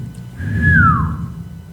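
A priest imitates a shepherd's whistle signal: one clear, rising then gliding-down whistle lasting about a second, sounding over a low hum of room noise with no talking.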